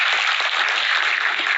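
Loud, steady applause fills the hall for the Union Minister of State for Rural Development, Consumer Affairs, and Food and Public Distribution at a women's empowerment video conference, a dense, even clapping with no voices over it.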